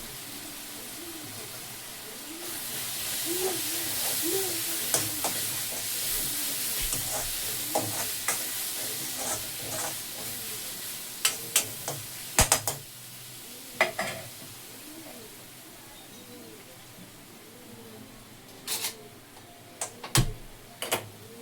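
Masala and vegetables stir-fried in a home kitchen pan: a steady sizzle with a spoon scraping and clacking against the pan in irregular bursts, close and alone without talk.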